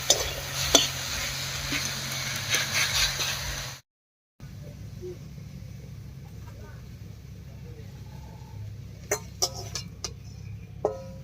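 Boiled moringa leaves are stirred in a cooking pan: soft, faint scraping and occasional light clinks of a utensil against the pan, with a short silent break in the middle, over a steady low background hum.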